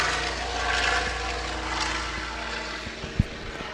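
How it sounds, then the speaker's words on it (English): A Viking firebomber propeller aircraft rolls for takeoff at the Oshkosh 2018 airshow, its loud, steady engine drone filling the air with a deep continuous rumble and a sharp thump near the end. "the Viking firebomber is now on the takeoff roll"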